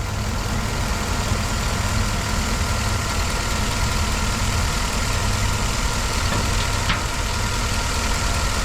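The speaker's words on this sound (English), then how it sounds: "let's pull this injector harness back off, and you'll see that it's misfiring." A 2011 Chevy Tahoe engine idles roughly with a misfire after its fuel injector harness is unplugged, a steady close low rumble that runs the whole time, with one faint brief tick near the end and no talking.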